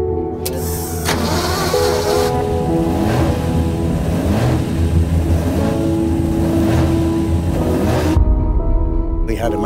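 Jaguar C-X75 race car engine revving loudly and continuously, a dense mechanical roar with rising and falling pitch, close by, with faint talk mixed in.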